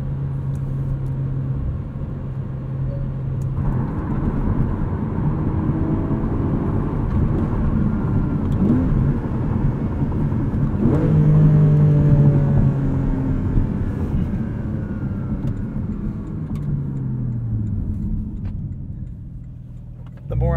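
2021 Porsche 718 Cayman GTS 4.0 with a six-speed manual on the road, heard as a continuous engine and road rumble from inside the car that swells and eases with the throttle.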